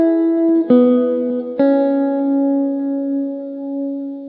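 A lofi guitar melody of a few sustained, effect-heavy notes. Two fresh plucks ring out and blend into long, wavering tones at a steady loud level.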